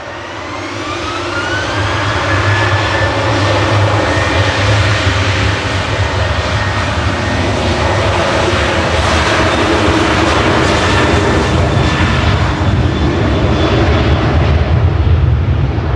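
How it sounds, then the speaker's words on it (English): Close, very loud engine roar of a Ryanair jet departing Manchester Airport for Venice, swelling quickly in the first seconds and then holding a powerful sustained blast with a rising whine layered on top, no voices. "departing in front of us is Ryanair"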